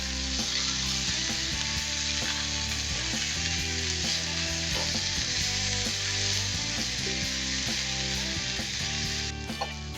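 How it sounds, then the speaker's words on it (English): Smoked andouille sausage sizzles steadily in a pan with peppers and onions, a loud continuous frying hiss broken by the occasional scrape of stirring, with no voices. "I'm just going to add that right to the pan with the peppers and those onions"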